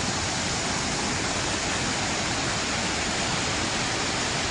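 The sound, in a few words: Jamjir waterfall in full monsoon flow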